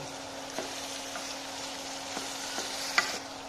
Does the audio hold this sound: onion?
yes